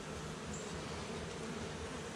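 Honey bees hum around an open backyard hive during an inspection, a faint, steady buzzing drone with no pauses and no one talking over it.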